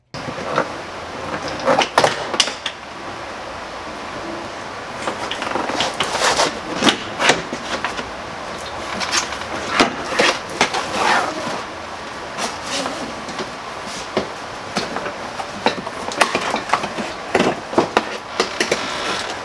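Plastic weather trim and a quarter panel trim are pulled and popped off a Jeep Grand Cherokee WK, giving a string of sharp clicks, snaps and scraping rustles at close range, irregularly spaced, with no talking.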